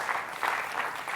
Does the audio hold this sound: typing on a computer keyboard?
no